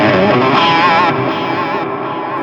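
A MOOER Echoverb pedal adds an airy, bright reverb to a distorted electric guitar, a loud sustained chord ringing out with a shimmering, washy tail that slowly fades.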